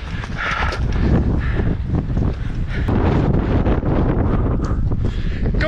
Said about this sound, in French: il y a des rafales, il peut avoir des rafales à 100 km/h